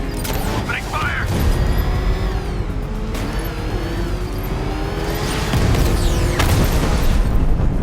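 Combat in Batman: Arkham Knight, with heavy booms, crashing impacts and mechanical roaring layered continuously and loudly, with sharp bursts near the start and end and a voice speaking over parts of it.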